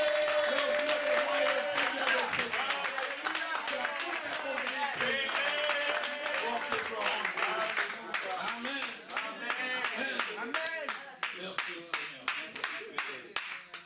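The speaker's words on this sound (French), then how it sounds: "Acclame pour le Seigneur." A church congregation claps and applauds in praise of the Lord, sustained crowd clapping that thins into scattered individual claps toward the end, with a voice and music heard under it.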